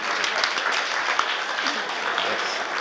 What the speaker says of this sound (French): J'aimerais une bonne main d'applaudissements.